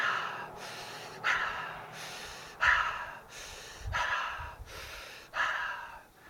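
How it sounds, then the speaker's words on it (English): Deep breaths drawn through the mouth during a yoga session, about five long audible inhales and exhales in a slow repeating rhythm, close and fairly loud with no talking. "If you don't like breathing through your nose, breathe through your mouth."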